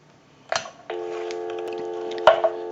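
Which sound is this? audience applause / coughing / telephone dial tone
telephone dial tone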